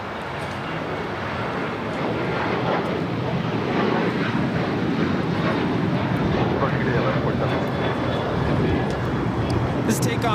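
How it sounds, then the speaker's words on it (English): An Alaska Airlines Boeing 737-900 roars down the runway on takeoff at LAX, a loud broadband jet rumble that holds steady throughout, with people talking over it. "This takeoff is Alaska Airlines 1147 taking off to Seattle on a 737-900."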